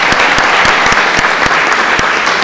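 Applause at a formal session for Housing Day fills the room, a dense steady clapping from the audience with a few sharper claps standing out, loud and continuous throughout.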